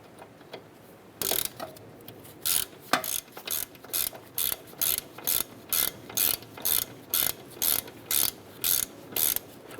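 A ratchet snugs down a bolt on a 2008-2012 Honda Accord wheel bearing, giving a long, evenly spaced run of sharp clicking bursts close up with no voices.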